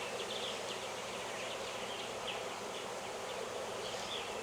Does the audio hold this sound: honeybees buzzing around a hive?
yes